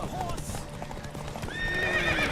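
Horse hooves clip-clopping at a gallop in The Witcher 3 video game, with a whinny and a rider's voice over the rapid hoofbeats.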